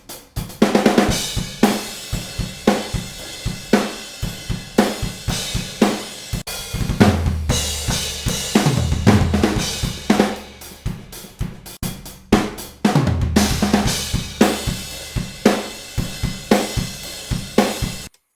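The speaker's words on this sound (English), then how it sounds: "some drums that has not been edited." Unedited metal drum kit recording with kick, snare, rack and floor toms, hi-hat, ride and cymbals, captured with overheads and room mics: loud, fast repeated hits with dense cymbal wash, close and without talk.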